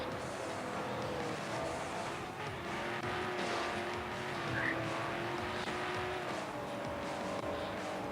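Racing cars roar through a video game race, a steady engine drone with rising and falling pitch and occasional tire squeal, running continuously at a moderate level with no voices.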